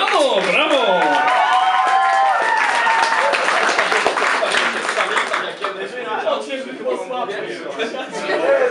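An audience applauding the Polish band Mariano Italiano, loud steady clapping from a crowd with some chuckles mixed in, a voice speaking over the applause at the start before the clapping carries on and gradually thins.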